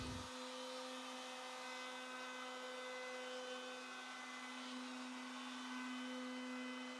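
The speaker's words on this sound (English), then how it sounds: "Then I'll go around the top and give it a small round over." Power router rounding over the top edge of a plywood mid-century modern shelf, a steady high-pitched motor whine running continuously after a sharp start, close and loud with no talking.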